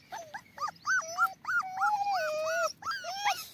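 A puppy near a house whimpers and yips in a string of high, rising whines and short howls, close and fairly clear with no talk over it.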